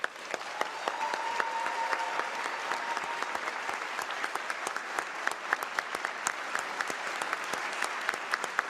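Steady applause from a large audience at a state legislative chamber for the Illinois governor's State of the State address, dense clapping sustained throughout with sharp individual claps standing out.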